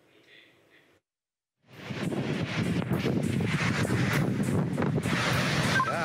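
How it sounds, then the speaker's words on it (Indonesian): High waves crash against a tugboat moored at Blok 3 in Tanjung Priok, North Jakarta, as it capsizes. A loud, continuous roar of surf and wind rushes in after a brief quiet gap and surges unbroken to the end. "ombak tinggi menerjang kapal tugboat yang sedang bersandar di area Blok 3 Tanjung Priuk, Jakarta Utara hingga terbalik"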